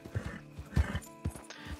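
A horse in the El Rancho RP video game whinnies and its hooves clip-clop in short bursts, fairly close and fairly quiet, with no talk over it.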